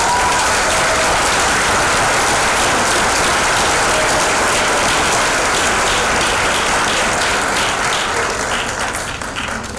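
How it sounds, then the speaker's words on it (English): A large audience at a middle school awards night gives a student sustained, dense applause that fills the whole stretch and eases off slightly at the end, with no talk over it. "this young lady, round of applause, she's dynamite"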